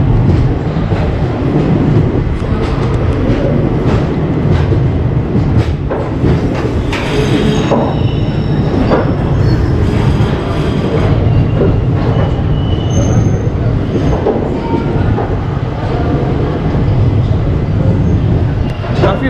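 Coromandel Express pulling out of Chennai Central, a loud continuous rumble of rolling coaches with rattling and occasional metallic squeals and clanks throughout, close and steady with no pause.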